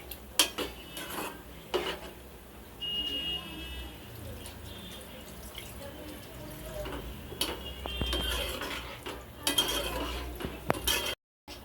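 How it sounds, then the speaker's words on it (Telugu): Chicken curry with drumsticks being stirred in a pot after a splash of water goes in, with intermittent clinks and scrapes of a spoon against metal and soft background noise, no talk. "ఒకసారి కలుపుకుందాం."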